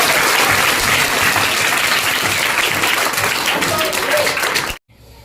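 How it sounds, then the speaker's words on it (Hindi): An audience at a school event at CM Rise school in Raisen applauds teachers with loud, sustained clapping that fills the room, then cuts off abruptly near the end. "एक बार गुरु लोगों के लिए जोरदार तालियां हो जाए।"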